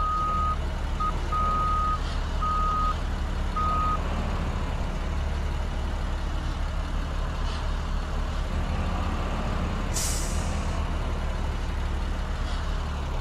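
In a bus driving game, a bus reverses into the lot with a short series of evenly spaced reversing beeps over a constant engine rumble, then a sharp hiss of air brakes around ten seconds.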